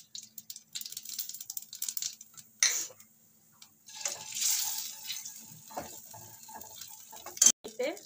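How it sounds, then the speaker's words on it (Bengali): Black cumin seeds go into hot oil left from frying rohu fish, giving quiet, scattered crackles and small clicks with brief bursts of sizzle. "এবার আমি কালো জিরে ফোড়ন দিয়ে দিচ্ছি তেলের মধ্যে"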